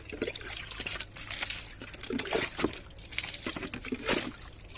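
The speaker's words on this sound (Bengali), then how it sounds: "এবার জল দিয়ে দিই" Water poured out in a steady splashing stream with uneven gurgles and trickles. It is close and moderately loud, with no voices.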